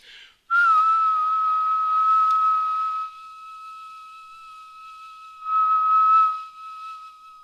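A person whistles a steady, high single tone for several seconds, passed through a band filter that thins it to a quieter, purer pitch in the middle before the fuller whistle returns.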